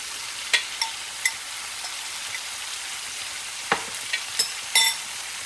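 Marinated soybean chunks drop into a hot pan and sizzle, a soft steady fry with scattered crisp pops and clicks of the utensil, heard close with no talking.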